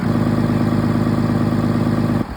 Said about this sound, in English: here it is after about 5 minutes of idling